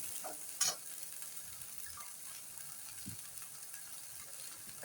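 Masala spice mix frying in oil for misal, a faint steady sizzle with a few soft stirring scrapes and clicks, no voices.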